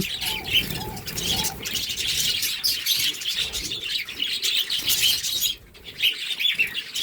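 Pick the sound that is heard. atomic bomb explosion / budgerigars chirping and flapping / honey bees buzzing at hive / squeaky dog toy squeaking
budgerigars chirping and flapping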